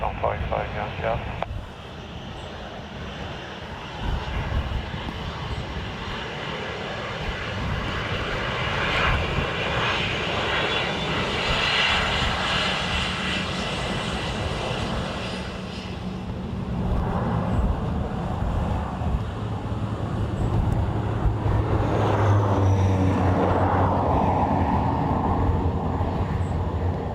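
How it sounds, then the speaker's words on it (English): A Netherlands Air Force C130 lands at Dublin Airport, its loud, continuous turboprop drone filling the scene and swelling toward the end, with radio chatter and voices faintly mixed in. "Netherlands Air Force C130"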